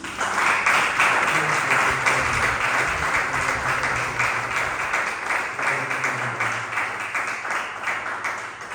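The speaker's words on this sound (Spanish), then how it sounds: "damos un fuerte aplauso a nuestro Señor Jesucristo" A church congregation claps loudly and steadily throughout, a dense continuous applause with faint murmuring voices underneath.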